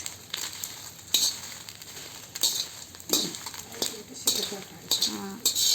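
Chillies tossed into a pan while making curry leaf powder give short bursts of sizzling and clinking spatula strokes, repeating every second or so at close range.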